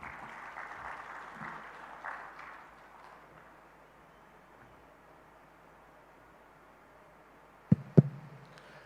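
A conference audience at Munyonyo Convention Center applauds after a speech, a moderate, distant patter of clapping that fades away within a few seconds, leaving quiet before two sharp knocks.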